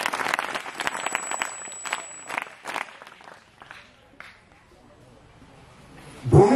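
An audience at a Waghbaras community event bursts into loud applause that thins out and fades over several seconds, followed by some rustling and a sudden loud thump near the end.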